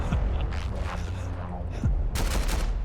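Gunfire from a competitive 5v5 match of the VR shooter Vail VR, a quick burst of shots and mechanical clatter followed by a loud crack near the end, with faint game noise underneath.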